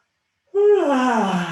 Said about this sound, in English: we're going to take a yawn together.